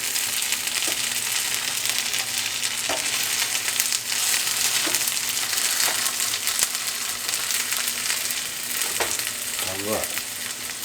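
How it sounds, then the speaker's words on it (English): A pancake fries on a hot griddle, giving a loud, continuous, close sizzle with a few soft scrapes from a spatula. "You just want to cook that to the golden brown, guys, on both sides. One more pancake to do."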